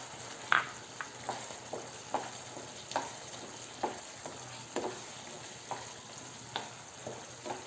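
A spoon stirs a thick simmering mushroom kurma just after garam masala goes in, soft scraping taps recurring about every half second over a faint steady sizzle, close and quiet with no talking.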